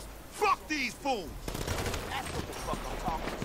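Gunfire in the video game GTA Online, with a burst of sharp shots mixed among game sounds and speech-like voices, busy and fairly loud throughout.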